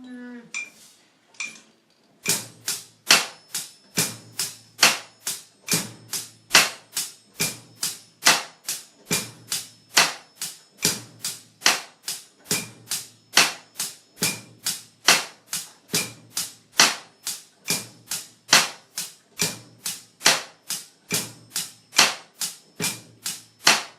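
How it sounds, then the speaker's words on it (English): A simple ballad backbeat on drum kit, with cross-stick clicks on the snare rim and light eighth-note hi-hat taps in a slow, steady pulse, played alone and close after a brief bit of sound at the start. "play your simplest backbeat, right, with a cross stick and light eighth notes on the hi-hat"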